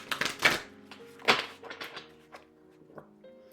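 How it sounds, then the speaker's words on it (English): Shuffling a stiff deck of playing cards, a few sharp riffling bursts and taps close by, separated by short pauses and softer handling sounds. "These are hard to shuffle,"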